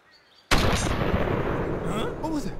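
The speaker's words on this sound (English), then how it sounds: "What was that? A gun?" A gunshot in the Open Season video game: one sudden, loud, sharp blast that gives way to a sustained roaring rumble, with a voice faintly present.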